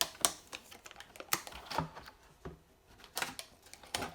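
Typing on a Microsoft Surface Go keyboard: irregular clusters of crisp key clicks with short pauses between bursts, close and fairly quiet, with no talking.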